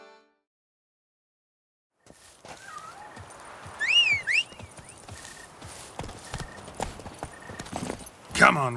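Hooves of the horse Roach clip-clop along in The Witcher 3, a steady walking rhythm at moderate loudness. It starts after a short silence, with birdsong and whistling over it and voices talking.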